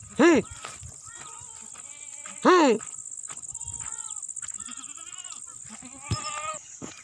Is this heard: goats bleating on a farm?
yes